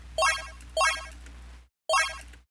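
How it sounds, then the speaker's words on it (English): Three bright 8-bit coin-collecting blips, each a quick rising chiptune arpeggio, the first two close together and the third after a short pause, clean and alone. "now you got a collecting coin sound"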